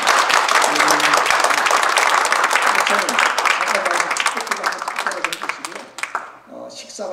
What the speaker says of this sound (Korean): 송민호 목사님께 감사의 박수 한번 드리겠습니다